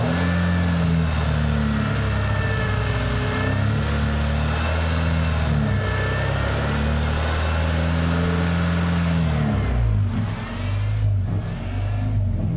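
A Honda or VW Tiguan engine, which has a radiator problem, idles close by with a steady, loud drone, its revs wavering up and down as it hunts before dipping briefly near the end.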